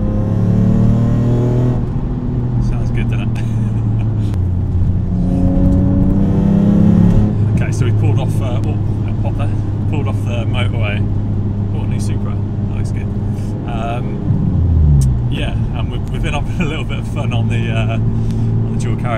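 Alfa Romeo 147 GTA with its Busso V6 engine while driving, a throaty engine note that rises and falls through gear changes, heard from inside the car with someone talking over it.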